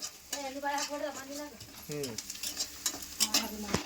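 Garlic and tomato fry in oil in a North Karnataka dhaba-style dish, with a soft sizzle and scraping stirring strokes beneath a voice speaking over the pan.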